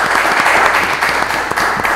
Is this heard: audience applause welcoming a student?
yes